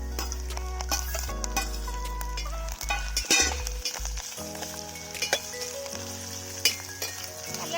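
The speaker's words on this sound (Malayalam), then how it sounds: "അത് നമുക്ക് ഇതിലിട്ട് നല്ലപോലെ ഒന്ന് വഴക്കിയെടുക്കാം." Ginger, green chillies, dried chillies and curry leaves sauté in a pan with a loud, continuous sizzle, while a few clinks of a spoon against the pan break through close by.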